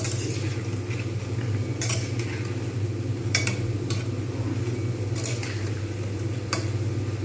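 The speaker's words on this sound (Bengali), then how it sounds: "আমাকে এগুলোকে ভালোভাবে ভেজে নিতে হবে ভিতরটাও কুক হয়ে যাবে" Bengali sweet dumplings, rosbora, fry in hot oil with a steady, close, dense sizzle and bubbling that runs throughout, broken by a few sharp clinks of a utensil against the pan.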